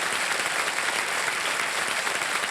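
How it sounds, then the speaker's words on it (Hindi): Studio audience on a TV quiz game show applauding, dense steady clapping throughout at even loudness. "एक बार तालियां बज जाए इनके लिए।"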